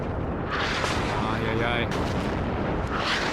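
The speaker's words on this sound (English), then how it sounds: "It's down to artillery." Artillery shells bursting in a WWII strategy game set on the Soviet front, a dense rumbling barrage with heavy booms layered under continuous battlefield noise while voices call out over it.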